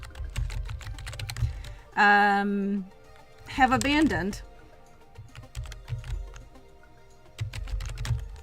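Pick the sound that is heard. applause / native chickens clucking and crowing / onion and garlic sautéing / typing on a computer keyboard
typing on a computer keyboard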